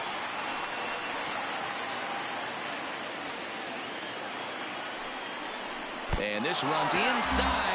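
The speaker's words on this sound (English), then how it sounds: "I can hear the crowd murmuring now, wondering if he hit him on purpose" Baseball stadium crowd murmuring at an Astros game after a batter is hit by a pitch, a steady broad wash of many distant voices, with a commentator speaking over it near the end.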